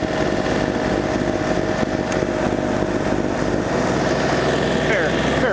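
A small snow blower runs steadily through deep snow, its engine drone constant and fairly loud throughout.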